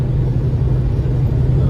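A 1966 Chevelle with an LS engine conversion drives at speed, giving a loud, steady low rumble from the stout motor with road and wind roar, close and continuous.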